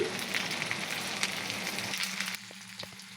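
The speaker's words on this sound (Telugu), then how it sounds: "ఆనియన్ 2 మినిట్స్ కొంచెం బ్రౌనిష్ వచ్చినంత వరకు వేయించుకొని" Onions frying in hot oil for a banana-flower curry, a steady close sizzle and crackle that carries on evenly before dropping to a quieter simmer near the end, with no talking.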